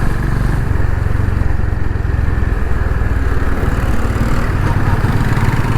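A 2023 Honda CB350 Highness DLX Pro motorcycle riding in traffic with a fresh air filter and spark plug, its engine giving a loud, steady, close-up thrum with a rapid low pulsing over constant wind rush, no talking.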